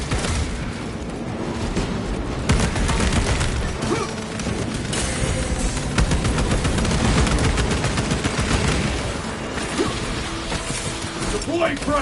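Bolter gunfire roars in the video game Space Marine: rapid, heavy bursts of shots with mechanical clatter and explosive thumps, loud and sustained, with battle voices mixed in.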